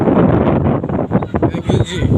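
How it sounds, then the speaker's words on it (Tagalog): Strong wind buffets and roars continuously against the microphone, loud and gusty, with a voice faintly mixed in, while tree branches are cut high up. "ang lakas ng hangin oh, tingnan nyo guys."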